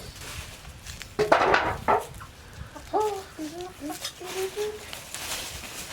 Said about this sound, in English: Nice little group of chickens.